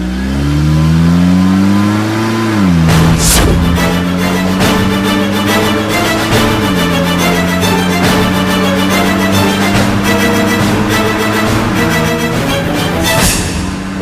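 A car engine runs loud and close throughout, rising in pitch as it accelerates, then shifting through a few revving drops and climbs as the car keeps driving.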